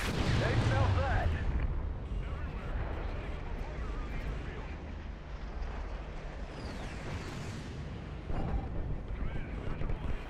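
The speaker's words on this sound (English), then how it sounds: "Icarus, focus fire on the heavy armor battalions." Artillery strikes pound heavy armor battalions in the Call of Duty Ghosts campaign mission Loki, a dense sustained rumble of blasts and explosions that swells louder near the start and again near the end.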